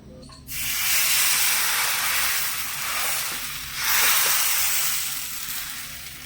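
Rice batter for chakli pitha sizzles loudly in a hot pan as it is spread, a close, steady hiss that swells twice and then eases.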